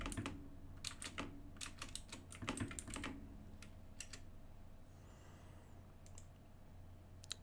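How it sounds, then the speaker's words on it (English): Fingers type on a computer keyboard while searching inside a game-engine project: quiet, irregular clusters of sharp key clicks with brief pauses, close but faint, and no talking. "Now the next thing we want to do is go to search again and type in K Wong or Kwong."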